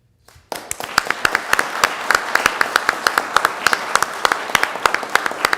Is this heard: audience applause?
yes